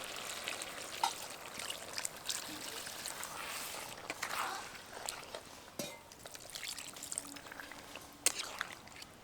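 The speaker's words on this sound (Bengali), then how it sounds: "মাংস এবং আলুগুলোকে খুব ভালোভাবে সিদ্ধ করে নেওয়ার জন্য এর মধ্যে দিয়ে দেবো জল" Water is poured into a pan of chicken and potatoes for a chicken gravy, making a soft, steady trickling pour that stays faint and continuous throughout.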